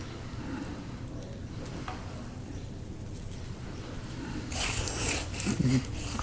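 Hands rubbing Dave's rib rub into baby back ribs make soft, close scraping and brushing sounds that grow louder and busier toward the end.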